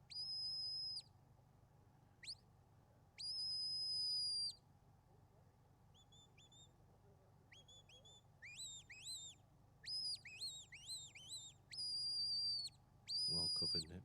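A shepherd's series of sharp, high whistles to a sheepdog at a sheepdog trial, some long and steady and others short, rising and swooping, sounds repeatedly over a quiet low outdoor hum.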